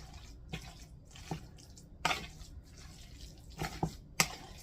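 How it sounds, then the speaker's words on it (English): Water drained and squeezed out of canned tuna, giving a few soft drips and wet squishing sounds at close range in a quiet kitchen, with brief louder splashes spaced irregularly. "Now, I drain mine really good, my tuna."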